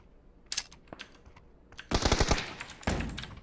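Gunfire in the PUBG video game: scattered single shots, then a rapid automatic burst and more firing, sharp and fairly close, with no talking.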